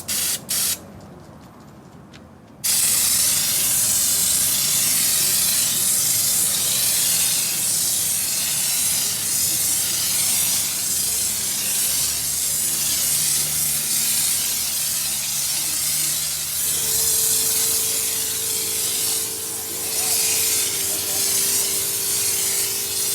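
A spray gun at 60 PSI lays U-pol bed liner coating at a training seminar, giving a loud continuous broadband hiss for about twenty seconds after a short quieter start, with faint tonal hum later on.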